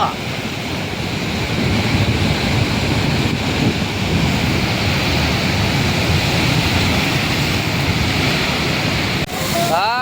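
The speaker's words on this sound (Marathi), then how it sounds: "बघा मोठी लाट आली होती मोठी लाट" Big sea waves breaking on a rocky shore of black, mossy stone, with a loud continuous roar of surf and wind gusts over the microphone for nearly the whole stretch before a brief drop.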